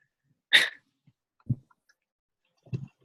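A dog barks in the background during an online business meeting: three short, separate barks, the first sharp and bright, the next two lower and duller, with quiet gaps between them.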